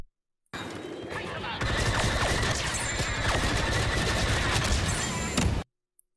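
TL-50 heavy repeater blaster from Star Wars Battlefront 2 firing a sustained, rapid stream of loud shots, with a short burst opening before continuous dense fire for several seconds, then abrupt silence.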